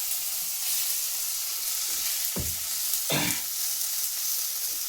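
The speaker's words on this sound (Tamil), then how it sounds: "ஃபர்ஸ்ட் வெங்காயம் வேகிறதுக்கு கொஞ்சம் டைம் தரணும்" Onions frying in a pan for egg rice, a steady soft sizzle running throughout with a few louder stirring scrapes and clatters near the middle.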